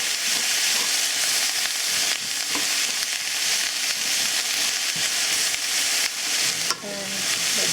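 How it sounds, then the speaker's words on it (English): Sliced onions sizzle steadily in a hot pan, a loud continuous hiss with occasional scraping stirs, no talking. "in the same pan I'm just adding the onions to cook"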